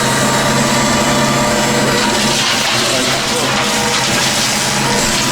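A tractor engine labours steadily in low gear with its PTO at 540 turning a hedge trimmer, a loud continuous mechanical drone with a whining, rattling edge that holds unbroken throughout.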